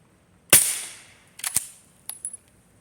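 A PSA Dagger pistol fires one sharp, loud shot up close, followed by a few quieter, shorter cracks spaced over the next two seconds, with no talking.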